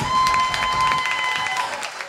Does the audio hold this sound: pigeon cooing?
no